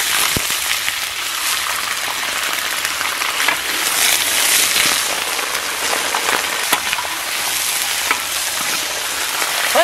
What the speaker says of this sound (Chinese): 炒一下，让这皮上色，颜色上均匀